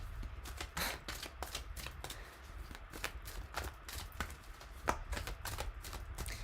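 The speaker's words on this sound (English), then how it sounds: "while I'm still shuffling the cards out" Tarot cards being shuffled by hand in a quiet room, a steady run of crisp riffling slaps and soft rustles repeating close by with no talking.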